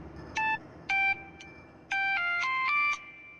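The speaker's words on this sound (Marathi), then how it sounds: "कोणाचा फोन आहे?" A mobile phone ringtone plays as a sequence of bright electronic tones, two short bursts followed by a longer melodic phrase, fairly close and alone.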